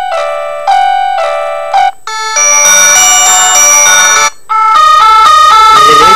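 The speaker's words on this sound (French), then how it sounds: "vous allez voir la force de la sonnerie qui est très importante, qui monte à 100 décibels" A classic mobile phone with a very loud 100-decibel ringtone, measured at 20 cm, plays shrill electronic melody phrases at full volume, with two short gaps between bursts.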